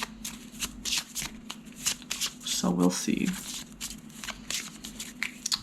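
Tarot cards riffle shuffled with a quick ripple and bridge, amid repeated crisp card handling sounds, while a person speaks briefly.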